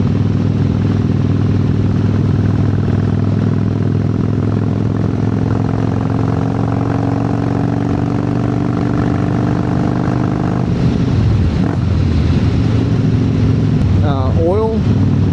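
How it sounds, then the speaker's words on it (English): An Excelsior Henderson Super X motorcycle idles through slash-cut exhaust pipes with no baffles, a loud, steady, deep rumble throughout, then a brief rev and change in tone near the end. "These are the slash cuts with no baffles. Just an absolutely unique and beautiful motorcycle exhaust."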